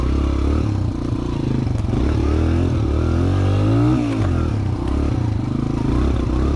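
A Suzuki DR-Z 125 dirt bike engine runs loud and close while riding off-trail through rough, wooded terrain with fallen trees, the motor droning and rising in pitch with clattering and scraping over bumps.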